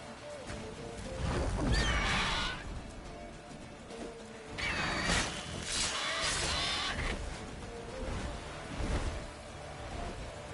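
Roach, a horse in The Witcher 3, whinnies and snorts in several loud bursts spread across the stretch, with hoof-like thuds and game ambience between them.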